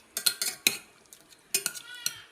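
A lid is set on a cooking pan of potato stew. Several sharp, close metallic clinks come in two quick clusters, ringing briefly against a quiet kitchen background.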